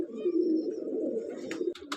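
Pigeons cooing, including black-winged breeder pigeons, at a pigeon seller in Faisalabad: a steady low throaty coo rolling on close by, ending with a few brief rustles.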